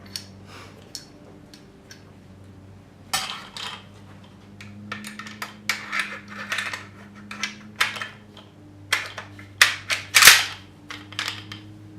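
Metal clicks and rattles of a dust cover being fitted onto a C39V2 AK-47 rifle: sharp, close, irregular snaps and taps, growing busier toward the end, with no talking.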